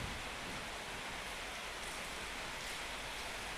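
Heavy rain pouring down in a steady, dense broadband hiss that fills the whole stretch without a break, loud and constant with no voices.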